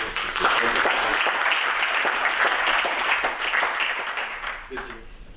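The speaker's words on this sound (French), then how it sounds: "j'aimerais qu'on les applaudisse très chaleureusement" An audience applauds warmly for partners at a poster presentation and partnership signing, dense close clapping sustained for several seconds with a few voices mixed in, thinning toward the end.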